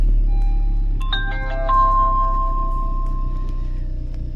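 Nexar Pro dash cam inside a car sounding its alert, a short sequence of clear electronic chime tones over the low hum of the idling engine, with no talking.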